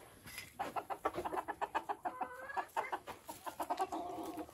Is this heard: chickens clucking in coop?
yes